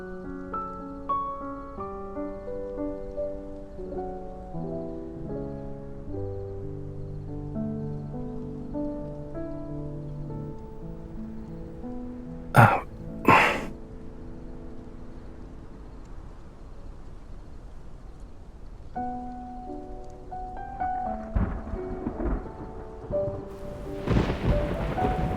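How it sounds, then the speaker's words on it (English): Rain and thunderstorm in a video game: a soft steady rain hiss under gentle melodic music, two sharp thunder cracks in quick succession midway, then heavier rumbling thunder rolls near the end. "It's raining! Let's head inside."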